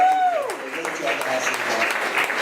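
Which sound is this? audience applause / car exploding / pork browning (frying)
audience applause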